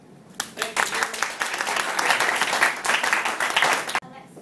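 Audience at a Toastmasters club meeting breaks into loud, steady applause that lasts about three and a half seconds and stops abruptly, with no talking over it.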